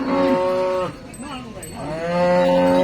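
Cows moo at a village cow market, two long, loud, drawn-out calls close by, separated by a quieter stretch of lower lowing.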